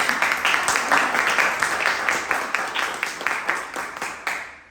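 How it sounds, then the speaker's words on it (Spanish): Steady crowd applause with dense, overlapping claps sustained throughout, fairly loud and fading slightly at the very end. "Demos un aplauso de aquí."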